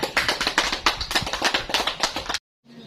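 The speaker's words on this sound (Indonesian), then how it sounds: "So, beri aplaus untuk temannya" A classroom claps for a student who has just finished a microteaching presentation, a dense burst of many hands lasting a couple of seconds before it cuts off abruptly into quiet.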